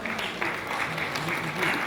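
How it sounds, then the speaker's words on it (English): A conference audience breaks into brief, steady clapping that fills the hall, with a presenter's amplified voice talking over the applause throughout. "big applause"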